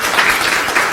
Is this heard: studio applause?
yes